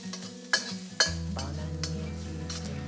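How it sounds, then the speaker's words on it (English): Garlic and ginger stir-frying in oil in a wok, a soft sizzle with a couple of sharp spatula clinks against the metal and light stirring. "Then add in the garlic and ginger and stir until fragrant"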